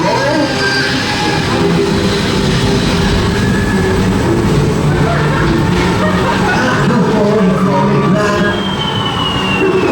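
A small amusement park train at Blackpool Pleasure Beach rumbles past close by with a loud, continuous rolling clatter and faint wheel squeals, while people's voices sound in the background.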